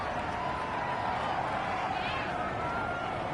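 A video game football stadium crowd roars in a steady, dense wash of disapproval after a penalty call, with commentary voices partly under the noise throughout.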